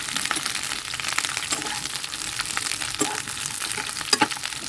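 Ripe red chillies frying in a kadai, a loud, dense, crackling sizzle throughout with a few light clinks and pops near the end, close up.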